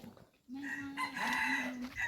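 Geese honk loudly with a sustained, slightly rising tone, repeated in two long bursts after a brief quiet start, close to the listener.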